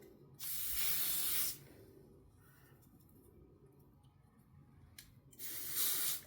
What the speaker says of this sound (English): I'm just gonna spray some.